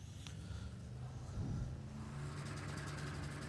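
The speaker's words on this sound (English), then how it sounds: "Greg Barrett brings the Commodore to the line again. Maloney in the, so LS is, turbocharged LS takes on supercharged LS." Faint, distant drag-car engines at Warwick Dragway, a turbocharged LS against a supercharged LS in a Commodore, with a low steady rumble that swells briefly and then holds.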